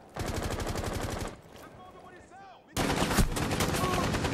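Automatic gunfire in the video game Rainbow Six Siege, rapid bursts of shots, loud and close, with a quieter gap of scattered mechanical sounds before a second heavy burst resumes.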